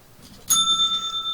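A small bell is struck once, giving a bright, sharp ding that rings on in clear, sustained tones, close and alone with no voices.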